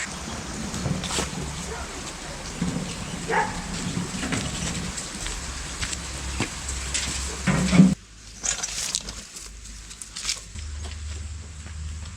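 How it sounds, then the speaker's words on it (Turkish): Rain begins and patters steadily on surfaces outdoors at a village stone house, with scattered knocks and brief voices nearby, then the sound shifts abruptly partway through. "Yağmur başladı."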